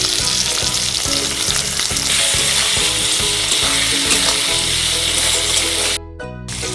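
Green chillies and chopped tomato sauté in oil with a little salt, a loud, close sizzle broken by a rhythmic series of spatula scrapes against the pan, then a short cut and resumed frying.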